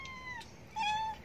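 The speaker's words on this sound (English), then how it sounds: "So let's go and feed my seven cats." A stray cat, one of seven being fed a lunch of rice with chicken and fish, gives two clear, close meows, a shorter one followed by a longer, louder one, with no talk.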